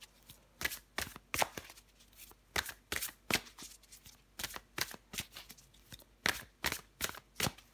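Tarot cards being shuffled by hand in quick, rhythmic riffles, about a dozen crisp papery bursts with short gaps between them, close up and clear.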